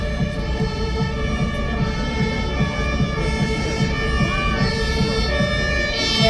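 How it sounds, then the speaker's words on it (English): Fire truck siren wailing on a Berlin street, a loud steady multi-tone emergency wail held throughout with traffic rumble underneath. "There's a fire truck."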